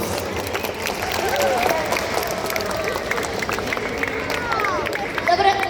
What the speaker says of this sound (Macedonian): Ги поздравуваме нашите актери со силен аплауз